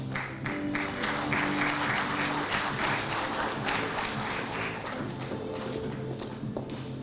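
Steady crowd clapping from graduating young bankers at a bank's convocation ceremony, a continuous moderately distant patter with low background music tones running underneath.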